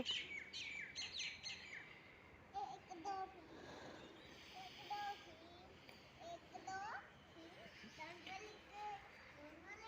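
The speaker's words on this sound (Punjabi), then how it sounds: "ਚਿੜੀਆਂ ਚੀਂ ਚੀਂ ਕਰਦੀਆਂ" Sparrows chirp in scattered bursts while children play and talk in the background at moderate distance.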